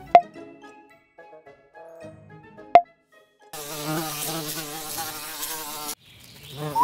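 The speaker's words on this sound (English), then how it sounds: "That's a bee, Baby Bluey." A cartoon bee buzzes in a steady, close drone for a couple of seconds, with sparse chirps and soft tones before it and a rising tone afterward.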